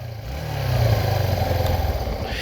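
A 1994 Yamaha SR125 motorcycle engine catches without choke and settles into a steady, throbbing idle close by, loud and continuous.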